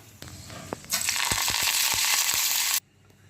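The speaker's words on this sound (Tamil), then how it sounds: "கடுகு போட்டுக்கலாம் கடுகு நல்லா பொறிட்டோம் கருப்பு உளுந்து போட்டுக்கலாம் கொஞ்சமாக கருவேப்பிலை போட்டுக்கலாம்" Mustard seeds, black urad dal and curry leaves hit hot oil for a spicy tomato chutney tempering, bursting into a loud, steady close sizzle with sharp seed pops scattered through, then cutting off abruptly near the end.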